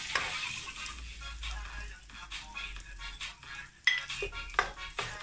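Onions sizzling in butter in a pan while pancit is cooked, a steady close frying hiss with scraping stirs and a couple of sharp utensil clinks against the pan.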